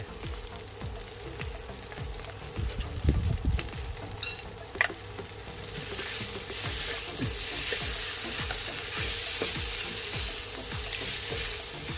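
Mushroom stems stir-fried dry with holy basil in a hot pan, a continuous close sizzle with repeated scraping stir strokes and a few louder clanks.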